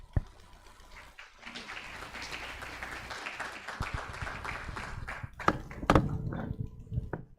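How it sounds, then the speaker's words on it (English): An audience at a church gathering claps for several seconds, a dense, steady patter of many hands with a few sharper, louder claps standing out near the end. "Again, another round of applause."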